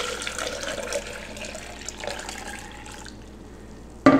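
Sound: warm distilled water poured into a blender

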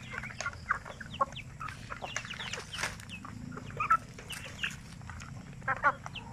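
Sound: native chickens clucking on a poultry farm

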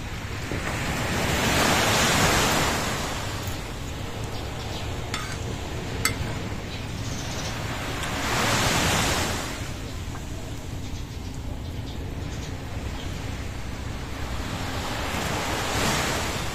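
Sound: ocean waves crashing on a beach in Ilocos Norte

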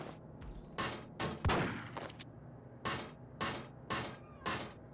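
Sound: enemy gunfire in video game Max Payne

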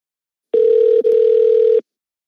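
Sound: telephone tone after disconnecting a prank call

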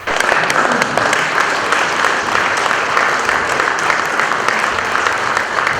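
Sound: standing applause from deputies

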